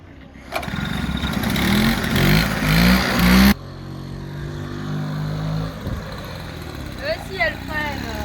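A vintage Peugeot 102 KT moped engine fires up and revs hard for a few seconds, climbing in pitch, then drops abruptly to a lower, uneven idle, loud and close throughout.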